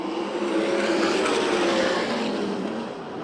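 Sprint cars roar around the Perris oval in a USAC National/CRA race. The engines are loud, close and sustained, a dense howl that swells and eases as the pack passes.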